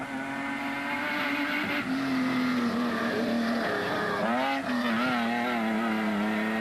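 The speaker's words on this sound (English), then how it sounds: "With another Castrol Toyota Hilux 4-litre zooming into view." A Castrol Toyota Hilux 4-litre rally truck roars past at a desert rally race, its engine note loud and sustained with a rising and falling pitch as it speeds by close to the listener.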